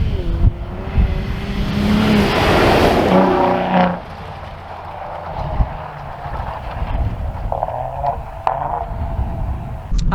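A 2021 Ford F-150 Raptor pickup drives fast off-road in snow, its engine revving and roaring loudly up close with a surge early on, then settling into a lower rumble with wind buffeting and thumps from the rough trail.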